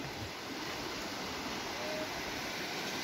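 A rural stream flowing where goats are grazed, a steady broadband rushing wash that stays constant and fills the whole clip without pause.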